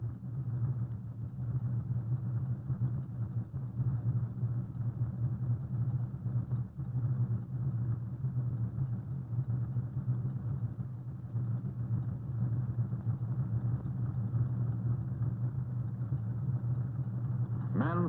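Low steady rumble of a fleet of concrete mixer trucks moving along road forms and pouring concrete, a constant droning engine hum with no breaks.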